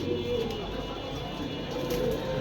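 A pair of grizzle pigeons coos softly at close range, low murmuring calls recurring over a steady background hum, with no talk.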